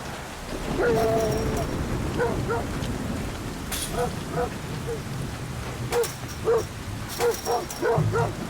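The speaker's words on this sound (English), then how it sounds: "Man, who let those dogs out?" Dogs barking repeatedly in Metal Gear Solid V: Ground Zeroes, several sharp barks in bursts over a steady rain-like background, growing more frequent toward the end.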